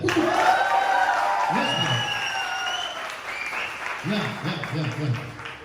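A church congregation claps steadily, with scattered shouts and cheers rising over the applause throughout.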